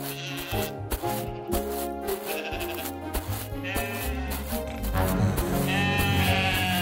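Cartoon sheep bleat repeatedly over a background of music, their wavering cries rising and falling across the few seconds.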